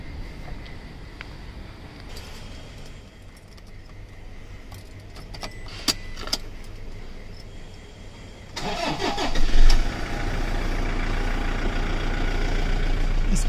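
A Toyota Hilux cranks and fires up after some clicks and rattling, then settles into a loud, steady idle that continues to the end, with no talking.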